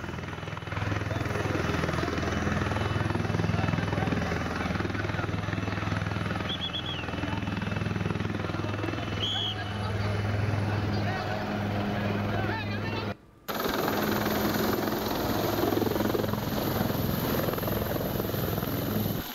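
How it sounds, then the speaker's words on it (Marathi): A helicopter flies over a flooded area in Beed during a village rescue operation, its rotor drone loud and continuous with a brief dropout near the end. "70 जणांचं हेलिकॉप्टरच्या सहाय्याने रेस्क्यू करण्यात आलंय"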